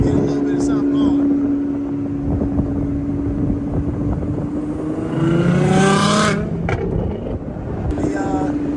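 A McLaren sports car drives past at a night car meet, its engine note rising and falling loudly over a steady nearby engine drone, with wind buffeting the microphone throughout.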